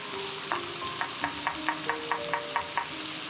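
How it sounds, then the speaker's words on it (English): Ginger and garlic fry with browning onions in a pan for a Kerala chicken fry, a soft steady sizzle under a regular rhythm of spoon scrapes and stirring taps, close and gentle, with no talk. "You guys please fry the ginger garlic after your onions have started to brown."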